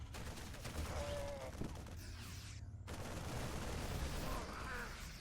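Rapid gunfire from StarCraft 2 Marines shooting at Zerg Overlords during a Zerg versus Terran match, a dense continuous stream of shots over game effects with a short dip partway through, no talk.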